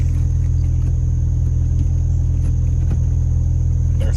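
A car with a 5-speed manual gearbox idles right after startup, a steady, loud, rattly engine drone with low rumble that holds evenly and close throughout.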